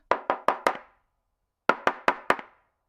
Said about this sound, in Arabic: تك تك تك. ده الباب بيخبط لوحده.